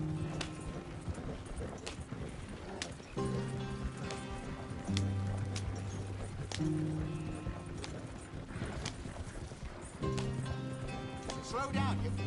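Horses gallop in Red Dead Redemption 2 with steady, rapid hoofbeats under rain and a tonal game score, while characters talk over the riding.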